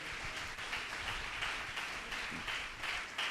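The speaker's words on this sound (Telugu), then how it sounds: "అందరూ చప్పట్లు కొట్టండి గట్టిగా" An audience at an Easter Sunday worship service claps loudly together, a dense steady patter of hands filling the room for several seconds without a break.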